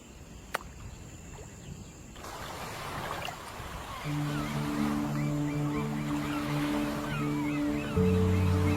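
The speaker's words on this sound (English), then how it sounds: "Along the Atlantic coast, where brutal waves batter the South African shore" Brutal Atlantic waves batter the South African shore, a broad continuous wash of surf that swells louder partway through, with low steady tones coming in later alongside.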